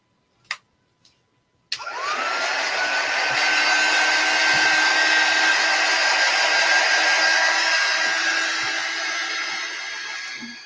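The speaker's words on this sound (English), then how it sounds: "I'm going to dry it with my quick dry tool." Quick dry heat tool switched on after a couple of brief clicks, blowing a steady loud whooshing hum with a faint whine that holds unchanged for about nine seconds while drying a Christmas embroidery hoop wreath craft project.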